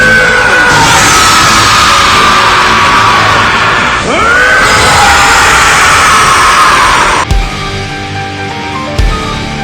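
An animated Vegeta lets out a long, loud, strained scream while powering up into Super Saiyan 3, the howl sustained for several seconds amid rushing energy effects, then cut off by sharp impact bursts.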